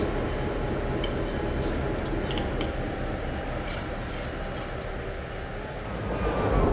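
An EMD F7 diesel locomotive set runs steadily from Edison Yard toward Bakersfield, a dense continuous rumble and wheel roar from close by, with a faint high squeal mixed in and no one speaking.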